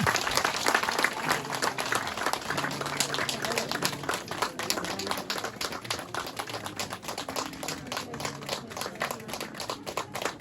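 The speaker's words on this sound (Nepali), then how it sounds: "ताली ताली सबैजना" An audience claps together at a Christian wedding, a sustained dense patter of many hands, moderately distant, with faint murmuring beneath.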